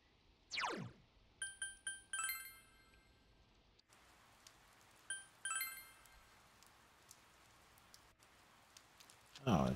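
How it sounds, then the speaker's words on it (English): Rain falls on a rainy day in the video game Persona 4 Golden, a soft steady hiss running throughout beneath bright chiming menu tones and short jingles. "Oh, it's a rainy day."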